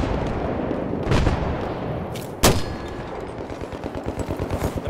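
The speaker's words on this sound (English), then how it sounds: "I've got eyes on a hostile machine gun." Gunfire in Battlefield 3: a steady crackle of shots with two sharper, louder bursts, then a quicker rhythmic run of reports toward the end, all without voices.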